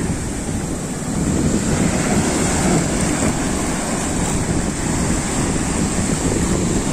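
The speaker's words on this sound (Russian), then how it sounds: "Солнышка нету, море штормит." Stormy sea surf rolls and crashes continuously along the beach at Lido di Jesolo, Italy, with steady wind buffeting the microphone, loud and unbroken throughout.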